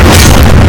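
Incendio fire spell unleashed in the Hogwarts Legacy video game, a very loud, short roaring boom with heavy low rumble and fiery crackle, filling the whole moment with no pause.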